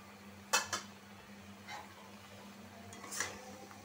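Tomatoes are stirred into a cauliflower and fish curry in a pan, with a spoon clinking against the metal a few times in faint, sparse knocks over a quiet background.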